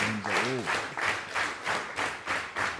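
A wrestling crowd claps in a steady rhythm, roughly two claps per second, loud and close, with cheering voices and a brief rising shout at the start.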